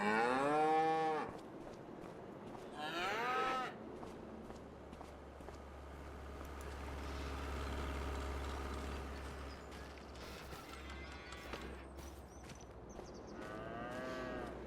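Cows in the Farming Simulator 25 video game let out two loud, close moos at the start, then a quieter stretch of hoof steps and low farmyard rumble, with further fainter moos near the end.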